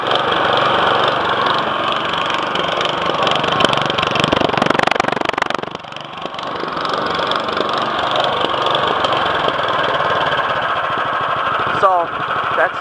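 An MTD 179cc small engine runs loud and close, revving up with a rattly drone before briefly bogging down, then settling back into a steady run while someone talks over it.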